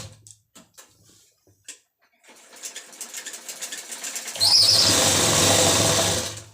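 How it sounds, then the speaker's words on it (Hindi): A sewing machine stitches palazzo pant fabric along a folded margin, starting with a few soft taps and a brief whir, then running steadily and loudly in a continuous mechanical drone for the final couple of seconds. "इस तरह से हमने इसमें पूरे में सिलाई लगा देनी है।"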